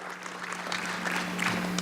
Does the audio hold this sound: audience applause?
yes